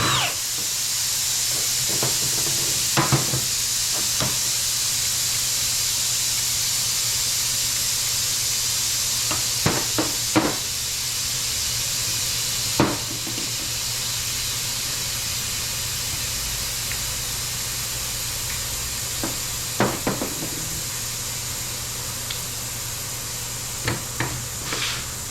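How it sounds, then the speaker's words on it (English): A steady hissing drone of an air compressor runs throughout a 1970 Challenger control arm strip-down, with occasional sharp clanks and taps of tools on top. "Sorry about the compressor noise."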